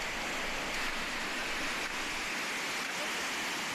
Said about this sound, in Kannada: ಚರಂಡಿ ವ್ಯವಸ್ಥೆ ಇಲ್ಲದೆ ರಸ್ತೆಗೆ ನೀರು ನುಗ್ಗಿದೆ